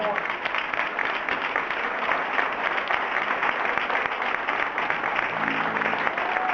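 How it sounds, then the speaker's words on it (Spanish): An audience at a rock tribute concert in Tenerife honouring a band and a late member, giving a sustained round of steady applause with a faint voice underneath. "Fuerte aplauso, por favor."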